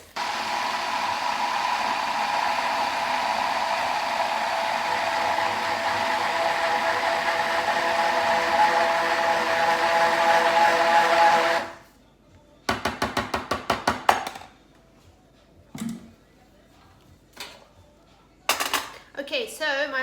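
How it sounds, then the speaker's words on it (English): A hand blender whirs loudly and steadily through masala sauce for about twelve seconds, then cuts off, followed by scattered clattering and knocks of kitchen utensils with brief quiet gaps. "What I also want to do at this stage is hand blend my masala before I let it cook."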